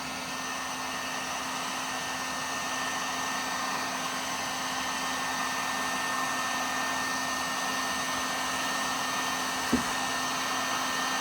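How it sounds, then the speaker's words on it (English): A heat gun warms old, hardened factory sound deadening inside a 2006 Dodge Ram Mega Cab, producing a loud, steady blowing whir that runs unbroken throughout, with one small click near the end. "getting the actual heat gun in the right spot while you're doing it at the same time"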